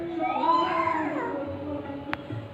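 A person imitates a cat, drawing out one rising-then-falling meow at moderate loudness over a steady background hum, followed by a sharp click.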